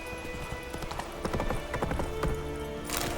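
Hooves of Roach the horse clip-clop at a steady trot in The Witcher 3, close and rhythmic, with a brief whinny and the rider's voice nearby.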